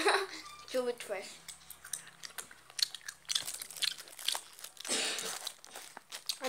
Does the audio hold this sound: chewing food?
yes